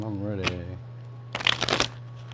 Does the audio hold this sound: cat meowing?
no